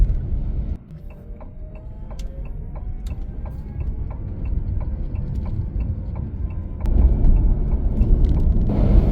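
An electric car cruises along the Eastern Freeway with a steady low road rumble and wind noise, a regular faint ticking like an indicator running through the middle, and the rumble swelling louder near the end.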